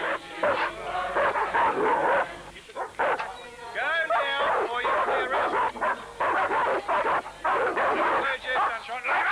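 Dogs held back near protesters at an environmental protest bark, yip and whimper in repeated bursts, loud and close, with people talking over them throughout.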